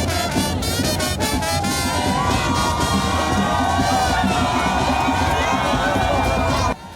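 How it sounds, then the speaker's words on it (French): A large crowd cheers and shouts continuously to welcome Emmanuel Macron on his visit to Cameroon, a dense, loud roar of voices, whoops and calls that holds steady before cutting off abruptly. "Après ce bain de foule"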